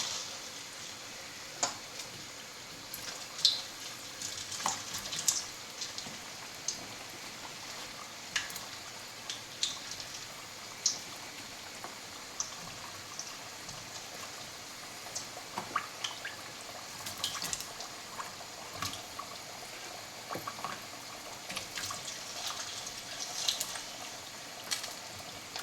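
Homemade french fries sizzle in hot oil, a steady broadband hiss dotted with crackles and pops, fairly quiet and continuous throughout with no talk.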